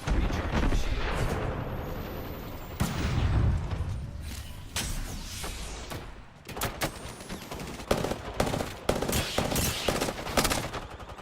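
Automatic weapon fire from a first-person shooter match in Apex Legends, loud sustained bursts with booming hits, a brief lull, then sharp repeated shots near the end, alone with no talk.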